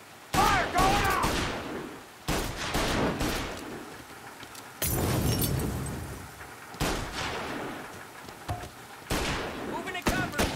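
Gunfire in the 1930s gangster game Mafia: Definitive Edition comes as five or six loud bursts of shots separated by brief pauses, each with a booming, echoing tail, and a voice speaks between some volleys.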